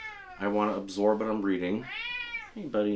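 A pet cat meows several times up close, drawn-out and varied, overlapping with a person's speech.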